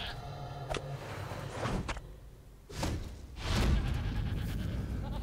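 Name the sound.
goat bleating in LOTRO (Lord of the Rings Online) video game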